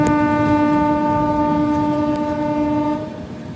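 A loud, sustained horn blares from the Tatanagar Express on the Ernakulam to Jamshedpur run, held for about three seconds over the rumble of the moving train before cutting off, leaving the running noise alone.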